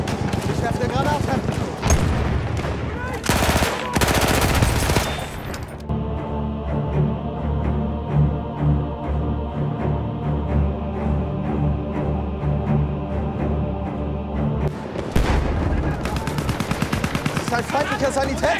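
Sustained machine gun fire in the Battlefield 1 video game: rapid, continuous bursts that run loud and steady for many seconds, with heavier explosive blasts and game noise before and after.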